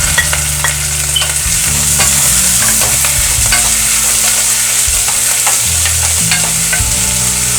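Onion and curry leaves sizzle loudly and steadily in hot tempering oil for sambar, with a bright hiss throughout. Frequent scraping stirs cut through it, and no one speaks.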